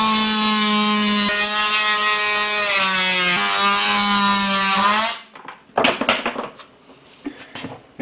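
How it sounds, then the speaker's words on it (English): An oscillating multi-tool notches a form for a poured-in-place concrete countertop, giving a loud, steady, high buzzing whine for about five seconds. It then stops, and sharp clattering knocks follow. "I will probably end up notching that with the oscillator tool"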